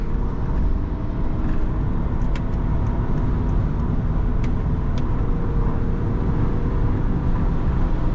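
A 2008 BMW 530d E60 diesel saloon with 280 hp accelerating hard on a German autobahn, a loud sustained engine and road drone with rising tones and occasional faint clicks inside the cabin.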